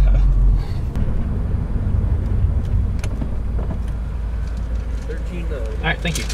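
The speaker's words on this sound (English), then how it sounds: "There goes Igor racing the Evo." A Mitsubishi Evo drag racing down a strip at Route 66 Raceway in Joliet, its engine a loud sustained roar passing at close range with some crowd and voice noise.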